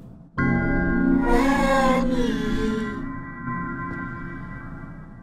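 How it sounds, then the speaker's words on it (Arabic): A cat meows in the horror video game The Baby In Yellow, one long, loud, drawn-out harmonic yowl that rises and then fades over several seconds, with no talking over it. "قطة."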